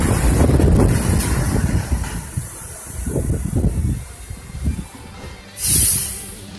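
Rumbling R32 subway car in motion, a low traction motor drone with wind and rail noise, surging and fading, ending in a brief hiss.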